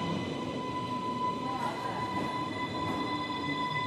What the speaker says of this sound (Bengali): ঠিক আছে, এই ট্রেনটাতে আমরা উঠবো।